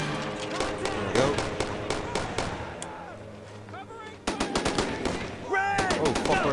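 Dense bursts of rapid rifle and machine-gun fire lay down suppressing fire in the World War II video game Brothers In Arms: Road to Hill 30, close and loud and continuing without a break, with voices shouting over the battle.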